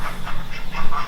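A noisy chorus of ducks and geese quacking and honking together, continuous and fairly loud, with overlapping calls throughout.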